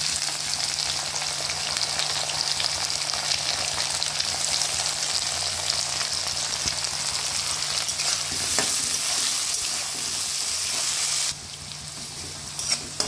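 Carrots with beans fry in a kadai for vegetable fried rice, giving a steady loud sizzle with stirring scrapes throughout and a brief dip in intensity near the end; no one talks.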